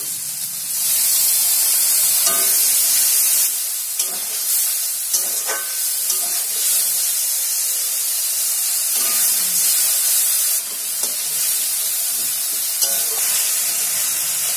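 A little water goes onto potatoes sizzling in a pan and sets off a loud, close, continuous hiss and steamy sizzle, with occasional stirring scrapes and no talk.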